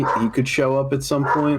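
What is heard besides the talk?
dogs barking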